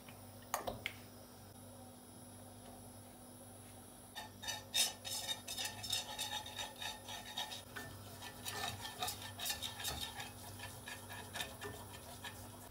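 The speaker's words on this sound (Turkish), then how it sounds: "Belirttiğim ölçülerde ayçiçek yağı ve unu ekleyip güzelce kavuralım." Sunflower oil and flour being stirred into a roux for béchamel sauce, a quiet scattered series of spoon or whisk clicks and scrapes against the pot, close by with no talking.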